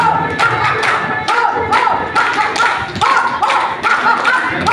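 An award ceremony audience claps loudly and continuously, with crisp individual claps in an uneven rhythm, while a voice talks over the clapping.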